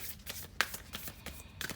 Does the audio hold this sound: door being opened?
no